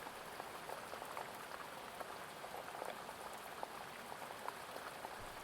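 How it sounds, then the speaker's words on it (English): Soft, steady patter of rain tapping on a window, quiet and even, with scattered drops standing out against a gentle hiss. "The sound of the rain beginning on the window to this room."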